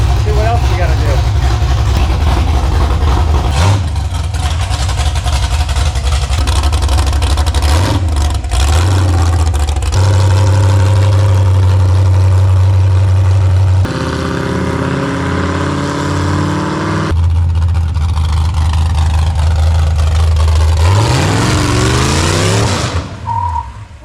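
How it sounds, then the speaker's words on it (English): A homebuilt car's engine revs and drones loudly on its first test drive, the pitch rising and falling as it accelerates and shifts, with a voice speaking at points over the engine. "I think it's ready to move under its own power. I'm gonna go take this first little test drive."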